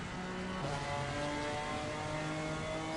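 GT4 race car engine heard onboard during a lap in Assetto Corsa Competizione at Mount Panorama, a steady close whine with pitch rising through the gears, loud and alone.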